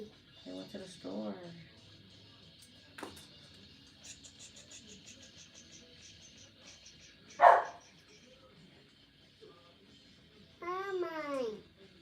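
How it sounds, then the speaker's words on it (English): A pet dog gives a single sharp bark mid-room, loud against a quiet home, while a small child babbles and makes high vocal sounds before and after it. "She's a doggy. That's her job, is to bark."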